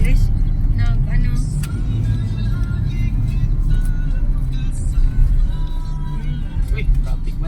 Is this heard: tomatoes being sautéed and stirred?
no